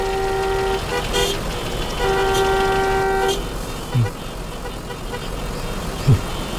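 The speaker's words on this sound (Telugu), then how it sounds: "ఏంటి ట్రాఫిక్ జామ్ అయింది?" Car horns honk in a traffic jam, long steady toots sounding in two overlapping bursts over a constant rumble of road traffic, with a couple of short thuds later on.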